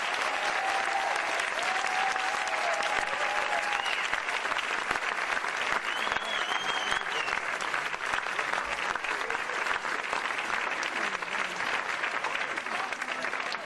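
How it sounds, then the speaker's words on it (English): Audience applause for candidates at the end of a May 2017 social justice debate, a steady, dense clapping from a large crowd that holds even throughout without any talking. "Let's clap it up for our candidates."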